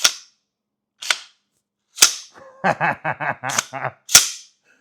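A BA-15FC AR-style shotgun being charged gives several crisp, loud mechanical snaps spaced about a second apart, with a brief burst of voice in the middle.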